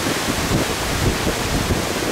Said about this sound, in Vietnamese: Này, mọi người cùng xem nè, sóng phủ ở trên luôn nè.